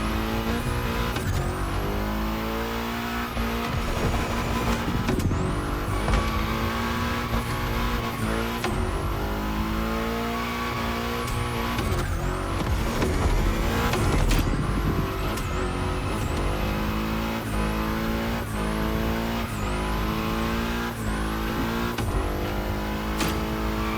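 A car drifts around bends in the racing video game The Crew Motorfest, its engine revving hard and steadily with repeated tire squeals throughout, loud and continuous with no talking.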